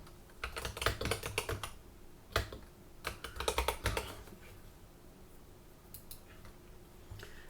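Fingers tap out text on a computer keyboard in quick clustered bursts of clicky keystrokes, close and fairly quiet, with short pauses between runs.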